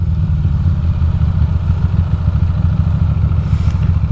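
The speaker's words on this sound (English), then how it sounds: "My bike is idling so low," A Ducati motorcycle idles very low while riding through windy holiday traffic from Brooklyn to Manhattan, a steady deep engine rumble with a continuous thrum and some rattle, close and loud.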